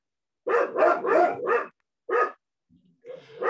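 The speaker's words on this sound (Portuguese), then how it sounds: "vocês ouvirem os cachorros" Dogs bark in quick succession, four loud barks in a row, then a single bark after a pause, with a faint whimper and more barking near the end. The barks are fairly close.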